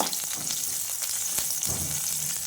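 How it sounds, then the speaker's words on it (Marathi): Green chillies frying in oil in a home kitchen give a steady close sizzle with crackling pops and an occasional scrape of stirring throughout. "मिरच्या पण आपण थोडेफार तेलामध्ये फ्राय करून घेऊया"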